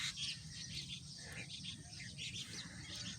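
Indian myna birds calling near their nests, a dense overlapping chorus of chirps and chatter, continuous and fairly close over steady insect-like background noise.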